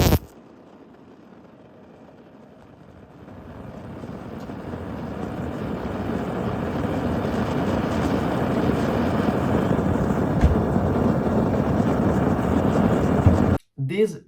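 A 3D printed liquid-cooled rocket engine test-fires on a fresh injector: a broadband roar builds steadily from a quieter hiss for about ten seconds, then cuts off abruptly.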